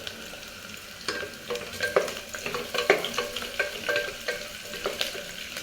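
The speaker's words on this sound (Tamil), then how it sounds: "அடுப்பை கம்மியாக வச்சே வணக்கிக்கிறேங்க, வெங்காயம் கருகிராமல்." Onions sauté over a low flame for a curry, giving a steady soft sizzle with repeated stirring scrapes, close and continuous.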